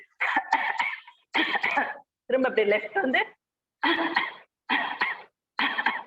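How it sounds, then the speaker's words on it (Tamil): Deliberate coughs during a yoga throat stretch in an online session: six forceful, close bursts in a steady rhythm, with a voice briefly speaking among them. "நல்லா ஒரு இருமல் இருமுங்க"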